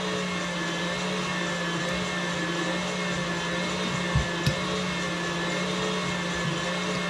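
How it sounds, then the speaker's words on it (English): A struggling KitchenAid stand mixer runs with a steady, strained motor whine and hum, loud and continuous, with a couple of brief knocks near the end and no talking. "I think my mixer's dying. Listen to it."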